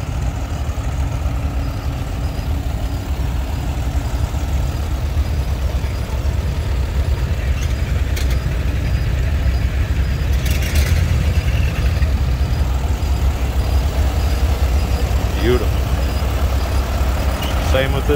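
An antique tractor engine idles at a steam and gas engine show in Baraboo, Wisconsin, giving a steady low rumble that runs unbroken, with faint voices and occasional clanks in the background.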